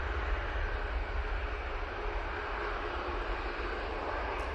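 A TUI airliner takes off at Manchester Airport, its broad engine roar a steady, moderately distant rumble with a heavy low end that holds throughout.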